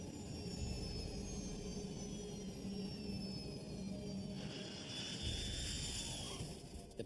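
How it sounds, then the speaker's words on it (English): An airliner comes in to land as its engine thrust is reduced, a steady broadband jet roar with whining engine tones that holds loud and close throughout, shifting slightly near the end as it nears touchdown. "The plane touches down at 7:32 a.m."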